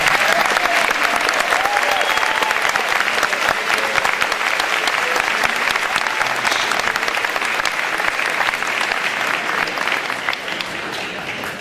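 A crowd at a student award ceremony claps steadily and warmly for about ten seconds, a dense even roar of applause that eases slightly at the end.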